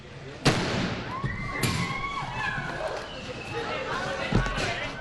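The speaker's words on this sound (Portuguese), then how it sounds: "Foi possível ouvir barulho de tiro." Two or three sharp gunshots crack out at intervals over a noisy background with distant voices and a faint whistling tone.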